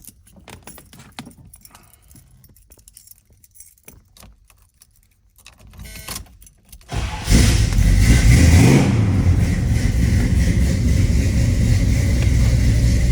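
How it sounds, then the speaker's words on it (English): A 1972 Chevrolet Chevelle SS 350 with automatic transmission jangles keys and faint clicks, then its V8 cranks and fires at about seven seconds into a loud, steady close idle with slight revving. "Let's start it up here."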